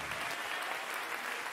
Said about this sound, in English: give the Lord a hand clap of anticipation